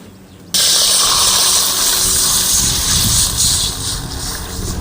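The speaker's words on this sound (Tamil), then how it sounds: "நெய்லேயே தண்ணி ஊற்றிக்கலாம்." Water poured into hot ghee in a cooking pan while making five-millet payasam, bursting into a loud, steady sizzling hiss after a brief quiet start and sustaining throughout.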